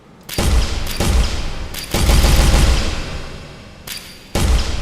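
Gunfire in an Unreal Engine 5.5 game level, loud bursts of rapid shots in several long volleys separated by short gaps, heavy and booming with a reverberant tail.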